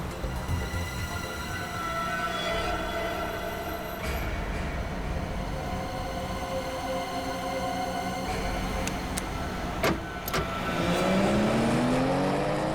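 A car is driven along a road with a steady engine drone and road rumble. Passing-vehicle swells rise near the end, and a louder whoosh closes the stretch.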